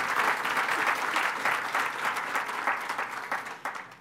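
Audience at the 2015 IQLA Awards ceremony breaks into sustained, dense applause, a loud continuous patter of many hands that tapers slightly toward the end, with no one speaking.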